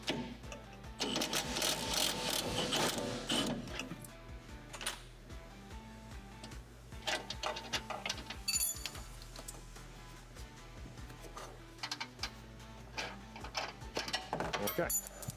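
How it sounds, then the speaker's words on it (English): A wrench ratchets a tight bolt on an SGXL granular attachment kit during installation, giving repeated close mechanical clicks and clanks in bursts with brief pauses. "I'm gonna take my wrench and just go up behind and hold the nut still."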